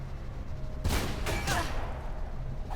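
Sniper rifle fire in Mirror's Edge: a few sharp, booming shots with ringing tails stand out over a low ambient game hum.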